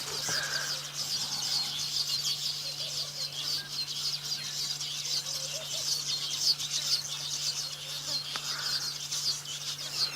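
Dense, continuous chorus of bird chatter and chirping fills the scene, busy and steady at moderate distance, with a low constant hum beneath.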